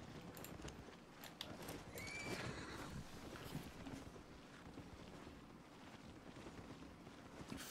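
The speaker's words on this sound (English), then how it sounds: "Mount armored horse." An armored horse mount in the online game Albion Online gives a whinny over clip-clopping hooves, with wind and a faint background bed, fairly quiet overall.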